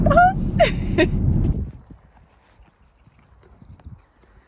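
Horse hooves clop at a stable over about a second and a half, loud and close, with a whinny-like call on top. The hoofbeats then fade into faint, scattered low knocks.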